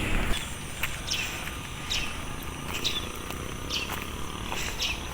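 A cat purrs steadily up close, a low continuous rumble under a noisy outdoor background with faint, sparse bird chirps.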